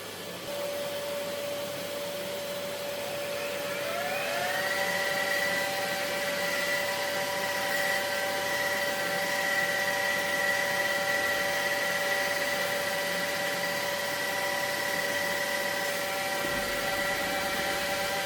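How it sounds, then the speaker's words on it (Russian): A vacuum cleaner runs continuously with a steady whine that rises in pitch after a few seconds, held nearby to catch dust while self-leveling floor compound is mixed. "Чтобы было меньше пыли, во время замеса использую пылесос."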